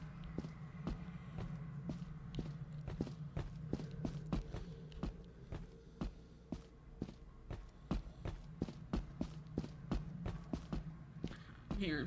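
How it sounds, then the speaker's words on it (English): Steady run of footsteps in the video game Lethal Company, many regular thuds across the whole stretch over a low ambient hum, fairly loud and close. "I'm hearing fucking footsteps."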